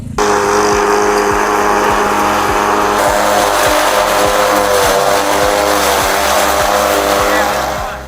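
A loud petrol mower engine drones steadily and close, with a throbbing rhythmic pulse throughout and no clear speech.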